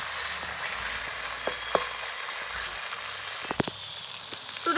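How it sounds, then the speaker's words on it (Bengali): Garlic frying in a clay pot with a steady hiss, broken by occasional soft scrapes and taps as it is stirred, close and fairly quiet with no talk. "একটু ভালো করে এইভাবে নাড়াচাড়া করে করে রসুনটাকে ভাজা ভাজা করতে হবে"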